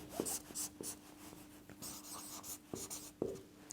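Pen scratching on paper during a Hindi physics lesson on wave optics fringe width, a series of quick strokes and taps close by with no talking.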